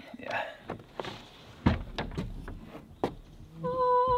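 Newly installed French doors on a yurt open and close with a few soft thunks, latch clicks and rattles, close by, followed by a sustained hum at the end.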